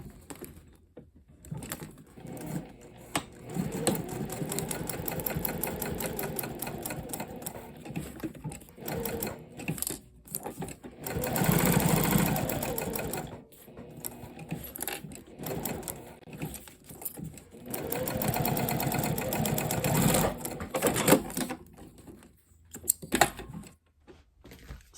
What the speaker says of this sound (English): I'm going to stitch at the top right, and I'm going to back stitch well, and then stitch down